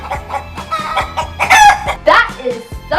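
A cartoon chicken gives a loud, close series of clucks that rise into a drawn-out rooster crow, rhythmic and prominent with no speech over it.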